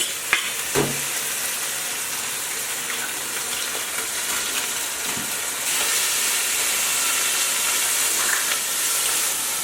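Gongura chicken frying in a pan while being stirred, with a steady close sizzle, a few clanking scrapes early on and a louder, hissier rush of steam in the second half. No talking.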